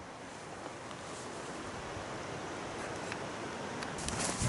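A river flows near a campsite with a steady, even rushing of water throughout, slightly louder toward the end, and no voices.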